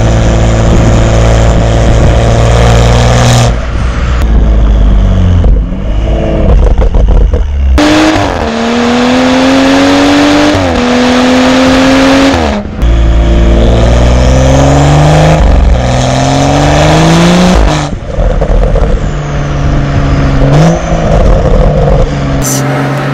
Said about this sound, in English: the car just revs faster, it burbles, it snaps,